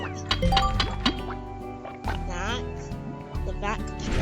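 Vacpack shooting in the video game Slime Rancher gives wet, splashy thwacks and gurgling pops over steady game music, several shots in quick succession.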